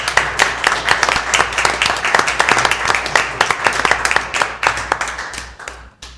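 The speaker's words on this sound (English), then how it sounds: "Let's get them a big round of applause." Applause from a board meeting audience, a steady patter of many hands clapping at close range that runs the whole stretch and thins out near the end.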